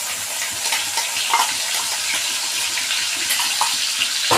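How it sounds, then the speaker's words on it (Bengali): Ginger, garlic and onion paste sizzling in hot oil with cinnamon and cardamom, a steady bright crackle of frying with occasional scraping stir clicks, close and continuous, no voices. "দিয়ে আদা রসুন পেঁয়াজের যে পেস্টটা করে রেখেছিলাম সেই পেস্টটা দিয়ে দেবো"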